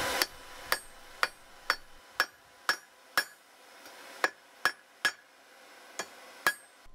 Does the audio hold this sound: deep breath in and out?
no